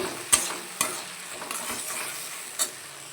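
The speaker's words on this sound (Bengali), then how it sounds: "আদা, কাঁচা লঙ্কা বাটা আর হলুদ আর নুন দিয়ে দিয়েছি, দিয়ে মশলাটাকে কষিয়ে নেবো।" A paste of ground ginger, green chili, turmeric and salt sizzles in hot oil while a spatula scrapes and stirs it in a pan, several sharp clacks standing out above the steady frying hiss.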